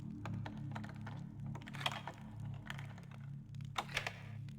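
In the video game Thief, lockpicking at a door gives quiet repeated metallic clicks and scrapes over a looping low hum, with a few sharper ticks standing out, no voices.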